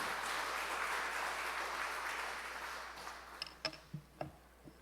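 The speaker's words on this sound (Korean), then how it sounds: "우리 목사님 나오실 때 다시 한번 박수로 환영하겠습니다." A Korean church congregation at a Sunday worship service claps to welcome the pastor, a soft wash of applause that fades out, followed by a few sharp knocks and taps.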